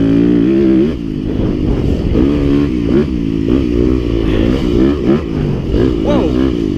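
A Yamaha YZ250FX full-size dirt bike rides and revs on a dirt track, its engine loud and close, rising and falling through throttle changes, with a rider's voice mixed in.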